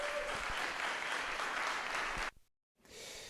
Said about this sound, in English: A round of applause for Linus.